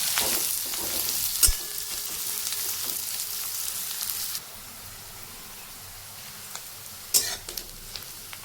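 Finely chopped onions fry in hot oil in a pan for birista, a loud, close, steady sizzle that drops to a quieter hiss midway, with a few sharp clinks of stirring.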